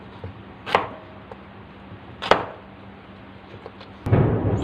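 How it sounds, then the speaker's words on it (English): A knife cuts a carrot into cubes on a board, three sharp, well-spaced chops and then a heavier rustling clatter at the end, close and clear. "So now friends, here I have the carrot, so I need to cut the carrot also."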